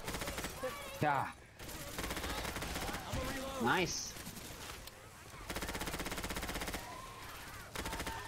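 Gunfire in the Left 4 Dead 2 video game, rapid bursts of automatic shots in a couple of stretches, with players talking and reacting over the noise.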